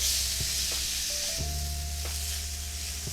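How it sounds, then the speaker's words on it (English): Shrimp cooking in olive oil in a pan over medium heat, a constant close sizzle with a few sharp stirring clicks and scrapes. "Now we're just going to stir and cook until the shrimp turns pink."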